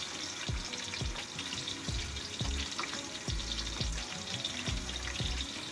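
Onions fry in a pot with bay leaves, a cinnamon stick, cloves and black pepper, making a soft, steady sizzle at low level. Faint bubbling and occasional low thumps run under it.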